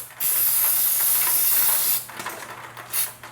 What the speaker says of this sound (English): You got some carb cleaner?